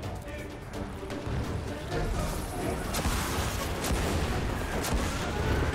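Rocket launcher fire in Destiny 2, the Scorch Cannon, with repeated booming blasts and crashes over a dense, loud game mix of gunfire and music, sustained throughout.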